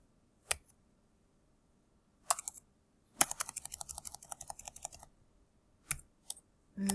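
Code typed on a computer keyboard: scattered single key clicks, then a quick run of rapid keystrokes, then a few more isolated taps, close and crisp against a quiet room.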